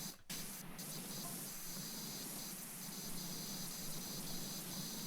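Pressure washer spray guns blast in the Powerwash Simulator 2 video game, a continuous, even hiss of spraying water that starts after a brief gap and holds steady throughout.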